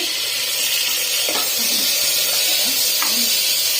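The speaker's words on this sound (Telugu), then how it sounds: "సో ఇలా కలపాలి అంతా, అది ఎర్రగా అయ్యే వరకు కలపాలి." Curry masala with tomatoes fries in a pan for chicken curry while being stirred, a steady hissing sizzle with a couple of brief scraping strokes, close by with no talk.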